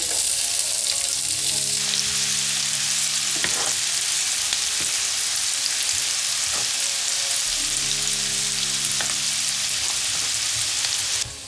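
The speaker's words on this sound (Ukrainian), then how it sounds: "спочатку треба розігріти пательню і обсмажити до золотистості цибулю" Onion frying in a hot pan: a steady, loud, dense sizzle that holds throughout without a break, with a few faint clinks and stirring touches underneath.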